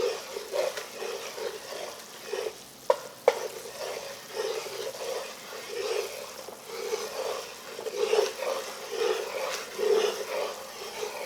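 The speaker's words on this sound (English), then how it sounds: "stay here for 20 to 25 minutes and give this roux some love. And you're going to keep stirring," A roux for chicken, shrimp and andouille sausage gumbo is stirred steadily in a pot, a soft scraping swirl with faint sizzle repeating in slow strokes, close and moderately quiet, with two sharp knocks near the start.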